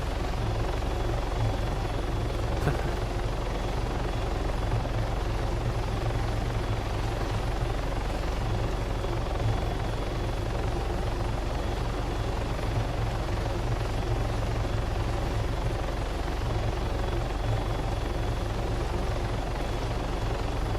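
Helicopter in the video game Arma 3, a steady, loud rotor and engine drone that holds unchanged throughout, close and continuous with no talk over it.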